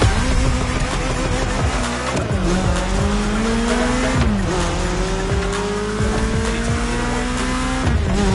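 BMW M3 in an open-world racing game, engine roaring close and loud with repeated rising and falling revs as it shifts, tires squealing through the turns.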